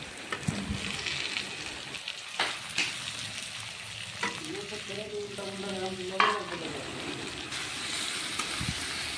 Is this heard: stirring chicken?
yes